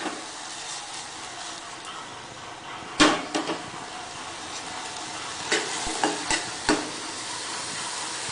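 Seasoned sweet corn cooking in a pan with salt and pepper, a steady quiet sizzle broken by several sharp clacks and scrapes as the kernels are stirred and tossed.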